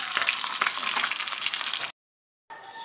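Vinegar-braised tuna (paksiw na tulingan) frying in hot oil: a dense, steady hiss and crackle up close, broken by a brief silent gap before the sizzling resumes.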